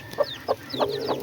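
A hen gives four short, evenly spaced clucks close by, each a quick sharp note with a brief pause between, over a quiet background.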